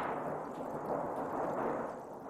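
Thunder created as a film sound effect, a steady rumbling roar that holds at a fairly even loudness for a couple of seconds without a sharp crack.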